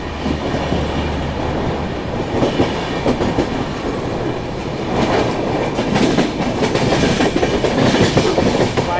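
Humsafar Express train running on rails between Chennai and Ahmedabad, heard from inside as a loud continuous rumble with rhythmic clickety-clack wheel beats and rattling carriage noise, no talk.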